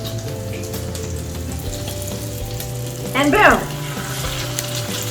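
Flour-dredged, egg-washed chicken sizzles and fries steadily in a hot pan, with a brief louder burst of crackling partway through as a piece goes in, and a short spoken remark over the frying.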